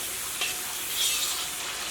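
A steady, dense bubbling sizzle from sauce boiling in a pan for chicken fried rice, continuous and close, with small crackles rising briefly through the hiss.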